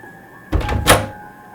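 A door is opened in a quiet house at night as a ghost-story sound effect: a short creak and thud lasting about half a second over a faint steady hum.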